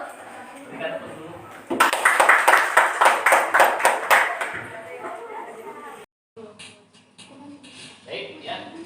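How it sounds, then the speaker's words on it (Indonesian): Short burst of clapping from a small classroom group at a teacher performance test session, a few seconds of rhythmic claps rising then fading, with talk around it. "Berikan tepuk dulu."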